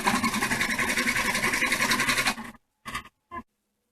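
An embroidery machine stitches an in-the-hoop bib, a steady fast rhythmic chatter that runs loud and close for over two seconds, then stops, followed by two short bursts of stitching.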